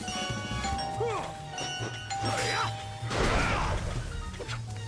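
A doorbell-like chime in the video game Sonic Unleashed rings a few times over game music and sound effects, fairly faint and mixed with other noises.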